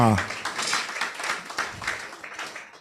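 A crowd of attendees at a leadership colloquium gives dense, continuous applause, loud and close, fading slightly toward the end, with a voice briefly audible at the start.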